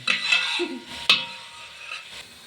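Grated carrot being stirred and roasted in a pan for carrot halwa, a close scraping and clinking of a spoon against the metal pan, with a sharper knock midway and a soft sizzle underneath.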